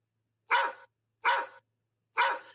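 A small dog gives three sharp, yappy barks like a chihuahua, evenly spaced with silent gaps between them, close and clear with no other sound.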